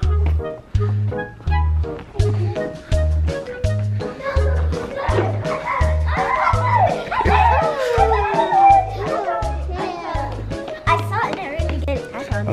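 Several children yip and bark like dogs in a movie theater, excited overlapping imitations, over a steady thumping beat of background music.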